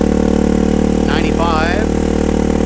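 Royal Enfield Hunter 350 with a slip-on exhaust idling steadily with a deep constant hum, while a voice speaks briefly over it.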